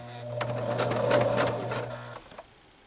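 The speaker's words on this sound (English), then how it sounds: "So now I'm just going to sew this." A sewing machine hums and stitches rapidly for about two seconds, close and steady, then stops with a couple of soft clicks.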